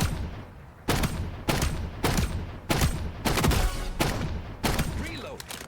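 Repeated bursts of weapon fire in the shooter game FragPunk, about seven loud, sharp volleys spaced under a second apart, each with a short decaying tail over steady game ambience.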